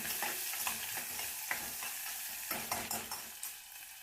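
Chopped onions, finely sliced and thick pieces together, fry in a pan for brinjal palya while a spoon stirs them, giving a steady sizzle broken by scraping strokes and clicks.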